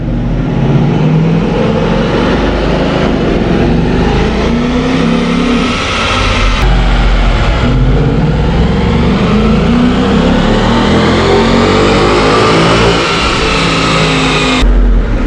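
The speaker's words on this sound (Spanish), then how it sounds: "vamos a meter este coche a un banco de potencia para ver cuántos caballos desarrolla en realidad este motor" A Ford Mustang GT with a 5.0 V8 revs hard on a dynamometer in fourth gear, its engine note climbing steadily through a long, loud, continuous pull with a brief dip midway and no talking.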